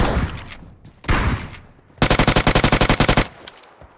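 In the mobile game Battlegrounds (PUBG Mobile), two loud single gunshots are followed by a rapid automatic burst of about fourteen shots. The burst ends abruptly and leaves a faint trailing noise.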